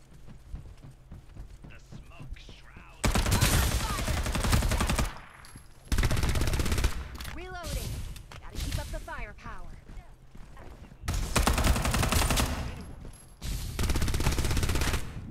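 Bursts of rapid gunfire in Farlight 84 come in several long volleys, loud and close, separated by quieter gaps with talking and game sounds.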